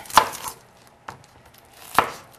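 Knife slicing through an onion on a cutting board: a few separate crisp chops, two sharp ones and a softer one between, close and alone.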